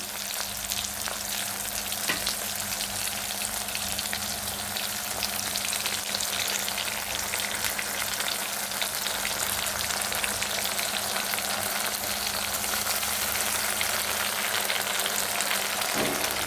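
Chilli paste and ginger paste fry in hot oil in a pan for an egg omelette and potato curry. A loud, dense, continuous sizzle holds steady from start to finish, with a few faint utensil knocks and no talking.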